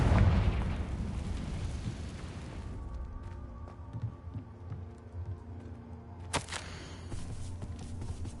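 A Confringo exploding curse goes off in a wizarding video game, a loud booming blast at the start that decays into a long rumbling tail, with another sharp burst later over low ambient noise.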